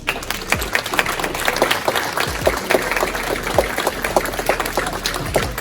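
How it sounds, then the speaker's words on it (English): Audience clapping at a community event celebrating future Black doctors, with sharp, uneven individual claps mixed into a lively round of applause, close and fairly loud. "Another round of applause."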